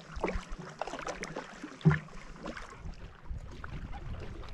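A Dagger Katana 9.7 kayak paddled across Fremont Lake near Pinedale, Wyoming, with soft, faint paddle strokes and water movement under light wind noise on the microphone.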